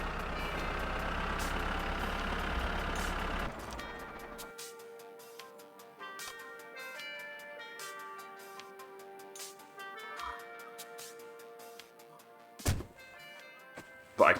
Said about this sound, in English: Quick sneakily steal away in that big, hard-to-notice, noisy tractor.